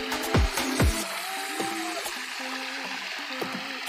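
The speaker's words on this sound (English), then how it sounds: "I just love this waterfall." A waterfall in a park gives a soft, steady wash of flowing water, fairly faint, with a few louder thumps and short tonal chirps heard over it.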